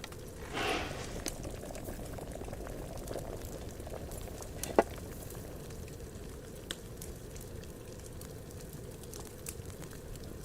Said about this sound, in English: grind the nettle, add it, and then boil